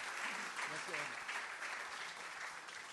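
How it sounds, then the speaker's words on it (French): A crowd at a trophy award ceremony claps continuously, a dense, even patter of applause heard from a distance, with a voice faintly audible beneath it. "que l'on applaudisse tous ensemble les 10 binômes qui nous ont fait l'honneur d'être avec nous aujourd'hui"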